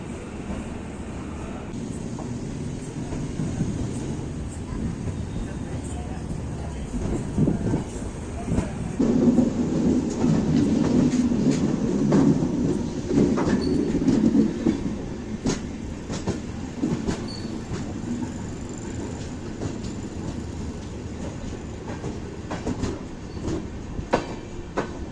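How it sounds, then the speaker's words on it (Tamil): Tirunelveli–Mettupalayam express train pulling out on a single line, a steady loud rumble of rolling wagons that swells midway, with scattered clicks and clanks from the wheels and couplings throughout. "இந்த ட்ரெயின் இங்கே டிபார்ட் ஆகுது."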